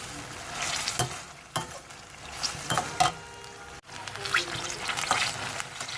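Chicken karahi with green chilies fries in a pot with a steady sizzle, broken by stirring scrapes and spoon knocks, close and moderately loud, pausing briefly midway.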